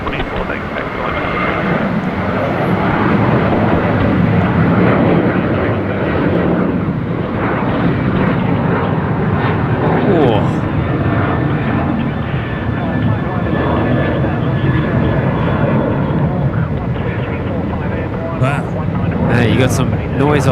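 Aircraft taking off from a runway at Brisbane Airport at night, a loud, steady broadband engine roar that holds for the whole stretch, with some voices talking underneath.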